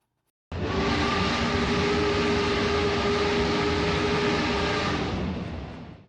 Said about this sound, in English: Did you hear that? The sound of a locomotive? Well, that's from Disney.